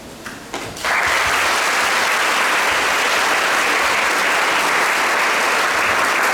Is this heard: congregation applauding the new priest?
yes